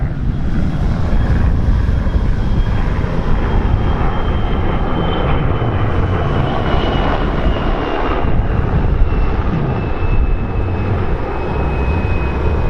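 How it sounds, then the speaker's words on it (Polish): A helicopter drones overhead with a constant rumbling whir, mixed with steady broadband wind or surf noise, loud and continuous. "nie dość, że szum, to jeszcze helikopter leci"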